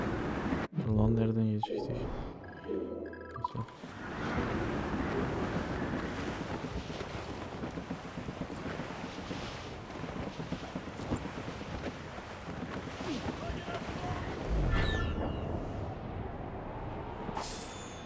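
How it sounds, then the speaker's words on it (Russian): Wind and open sea rushing around a sailing ship in Assassin's Creed Rogue, a steady broad roar of wind and waves sustained throughout, with brief game effects at the start and near the end. "Поймаем ветер! Ветер крепчает!"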